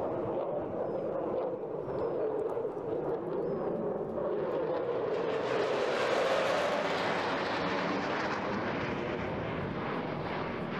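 A Eurofighter Typhoon jet roars through a tight, high-G airshow display at Eastbourne, its loud engine noise continuous and swelling into a brighter, harsher peak midway before easing slightly.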